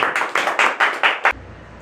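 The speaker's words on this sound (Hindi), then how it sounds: "उनके सम्मान में आप लोग जोरदार तालियां" At a Hindi poetry gathering in Lucknow, an audience claps to welcome the poet Acharya Om Neerav, about seven loud, close, evenly spaced claps that stop abruptly.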